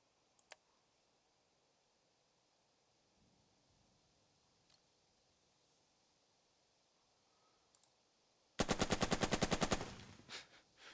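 Machine gun fire in the World War II strategy game Burden of Command, a sudden loud rapid burst that rattles for about two seconds and then tails off, after quiet near-silence broken only by a few faint clicks.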